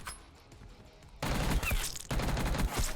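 Rapid bursts of automatic fire from the Jackal gun in Black Ops 6, two sharp volleys in quick succession, close and loud against a quiet game background.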